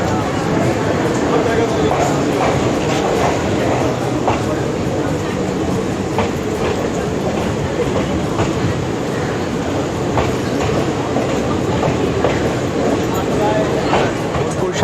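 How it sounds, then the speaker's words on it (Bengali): The Haldibari Intercity Express rolls on after leaving Bolpur Shantiniketan, a loud steady rumble of wagons with rhythmic wheel clicks over rail joints heard from inside the coach, with voices talking over it. "বোলপুর শান্তিনিকেতন থেকে আমাদের ট্রেন ছেড়ে দিয়েছে।"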